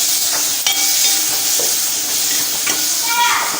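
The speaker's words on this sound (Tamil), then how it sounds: "எல்லாமே சேர்ந்து வதங்கட்டும்." Small onions and tomatoes sauté in a pan with green chillies, giving a steady, loud sizzle. A few light scrapes of stirring come through, with no talking.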